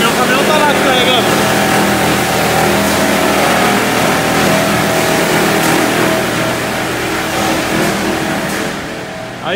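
A truck's engine runs while the truck is loaded with plastic coils at a cargo yard. The engine gives a loud, steady, continuous rumble that fills the whole stretch and eases slightly near the end.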